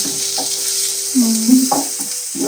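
Onion dropped into a hot pan for poha, a sizzle of frying with a few scraping stirs and clunks of a utensil, close up under a faint steady hum.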